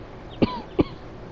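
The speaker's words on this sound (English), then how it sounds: "Sorry for any coughing, everyone." Two short, dry coughs about 0.4 seconds apart, close to the microphone over quiet background.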